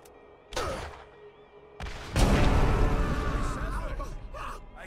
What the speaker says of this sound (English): I was surrounded by an explosion.